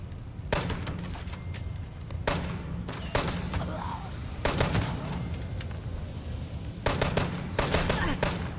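An automatic pistol fires in the video game Fallout 76 in rapid bursts of shots, four distinct volleys separated by short pauses. The gunfire is close and punchy, with quieter game sounds between bursts.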